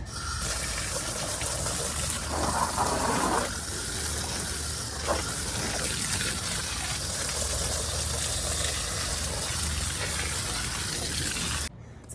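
Water pours steadily onto garden soil around zucchini plants, making a continuous close gushing splash that shifts slightly in texture before stopping abruptly near the end.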